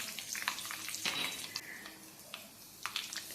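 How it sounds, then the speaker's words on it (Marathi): Mustard seeds crackle in hot oil in a pan as the tempering for a besan amti begins. Sharp, scattered pops and spits rise over a soft sizzle, close and fairly quiet, with no voices. "मोहरी छान तडतडून द्यायची आहे"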